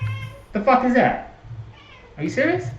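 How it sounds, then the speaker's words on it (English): A pet cat meows twice, loud and close, each a drawn-out wavering cry, with someone speaking in between and over them. "That is my cat destroying things."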